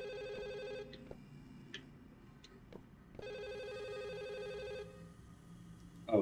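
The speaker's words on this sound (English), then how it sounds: "the phone's ringing" A telephone rings in the video game Firework, a repeating electronic trill in two bursts separated by a quiet gap, fairly faint and set against a low background hum.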